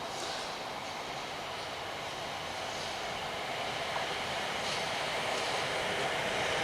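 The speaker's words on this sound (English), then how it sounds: "This is a heavily delayed London Overground service, going from Watford Junction to London Euston." A London Overground train on the Watford Junction to Euston line runs past South Hampstead with a steady, close rumble and faint wheel hiss, holding level and alone without speech.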